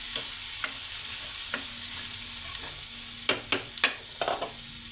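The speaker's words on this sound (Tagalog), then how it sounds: "Mikos-mikos natin" Food fries in a pan while a spoon stirs it: a steady sizzle is broken by a handful of scraping knocks, several bunched near the end, close up with no talking.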